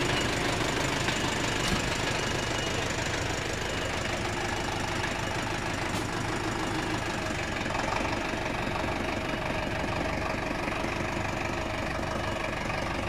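Zetor tractor engine running steadily with the gearbox wedged in fourth gear, a continuous loud mechanical drone with knocking texture and no speech.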